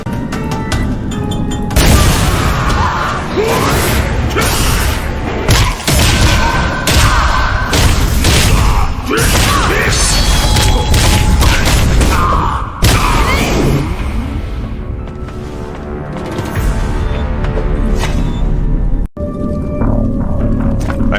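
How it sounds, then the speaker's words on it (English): Explosions in the Blade & Soul video game: heavy, loud booms and crashing thuds over a dense rumbling score, with several sharp hits spread across the stretch and a sudden cut near the end. "I heard an explosion."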